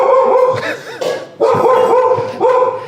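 A dog barks close and loud, two short clusters of sharp barks with yips, no talking.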